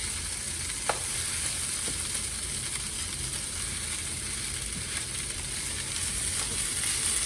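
Egg fried rice stirred in a hot pan, a constant dense sizzle with a few faint scrapes and taps of the spatula, even and moderately loud throughout, no voices.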